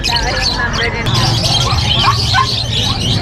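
Birds for sale at an animal market in Bocaue, Bulacan, give off scattered chirps and squawks amid steady crowd babble, with people talking nearby throughout.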